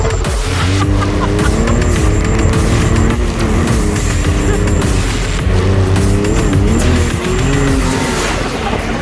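A Can-Am Maverick Turbo off-road vehicle with a CVT clutch drives hard, its engine holding a constant droning pitch with slight wavering, loud and close throughout.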